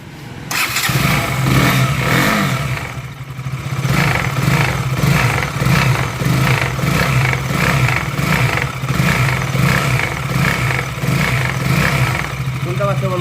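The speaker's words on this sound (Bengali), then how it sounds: "KTM 200 RC বাইকটার ইঞ্জিনের সমস্যা হয়েছে, তো ইঞ্জিনে আওয়াজ করছে।" A KTM RC 200 motorcycle with an engine fault starts up and runs loudly nearby, its fast, rhythmic pulsing throb continuing steadily throughout.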